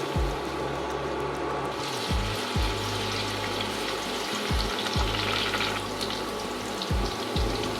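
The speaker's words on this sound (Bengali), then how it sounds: "আমি বানিয়ে নেব দিয়ে দিচ্ছি রসুন কুচি" Chopped garlic fries in a small amount of oil for a low-spice potato bhaji, giving a loud, steady sizzle broken by repeated stirring scrapes.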